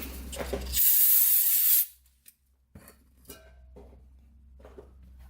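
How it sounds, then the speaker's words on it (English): A short, sharp hiss of aerosol brake cleaner sprayed on a Honda CRF250R dirt bike, lasting about a second, followed by quiet handling noises. "just going to spray that off with some brake cleaner."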